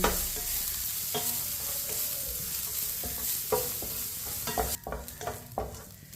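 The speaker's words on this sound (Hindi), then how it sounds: "सौंगी को 2 मिनट के लिए इसी तरह चम्मच लाते हुए पका लेंगे।" A spoon stirs vermicelli cooking on low heat in a pan. Soft sizzling runs under repeated scraping strokes, with a few sharper clinks toward the end. No voices are heard.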